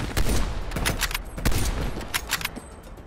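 Rapid bursts of gunfire from a sniper rifle and other weapons in the video game Call of Duty Black Ops Cold War, played on PS5, loud, close, and repeated in an uneven rhythm, with no talking.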